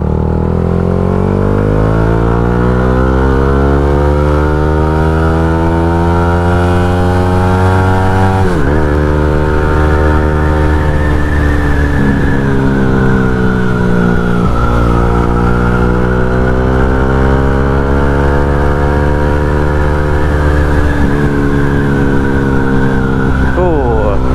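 A Yamaha Y15ZR motorcycle fitted with a KOZI ECU revs loudly and up close for the whole stretch. Its engine note climbs, drops back and climbs again in several sweeping pulls, with little pause between them.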